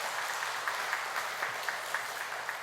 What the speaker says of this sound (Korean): 박수 한번 해주시겠습니까?